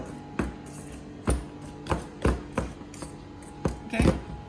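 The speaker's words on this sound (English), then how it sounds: "So we just simply mix like this." Brownie batter mixed by hand in a commercial cafe kitchen, close scraping and knocking strokes against the bowl in an irregular rhythm, several distinct thumps over a faint steady hum.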